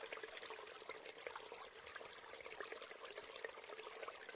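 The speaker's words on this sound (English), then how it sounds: "Now imagine if people across the world left their faucets dripping." Water runs from a household faucet left on, a soft, continuous trickle heard alone and fairly faint throughout.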